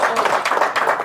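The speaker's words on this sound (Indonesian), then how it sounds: "Tepuk tangan dulu." Audience clapping at an Indonesian political rally, a steady burst of hand claps close and moderately loud for about a second, with no talk over it.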